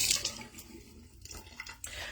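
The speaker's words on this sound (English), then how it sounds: "I can make a real big mess splashing water on my face all over the sink." Water splashes over a sink as it is thrown onto a face, giving quiet irregular splashes and drips with running tap water close by, and no talking.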